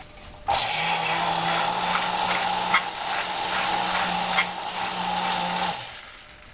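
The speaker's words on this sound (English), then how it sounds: "You want to shake it until your hand can't hold it anymore." Cocktail shaker full of ice shaken hard for a zombie cocktail, a steady loud rattling wash with faint rhythmic accents, running continuously for about six seconds and then stopping, no talking.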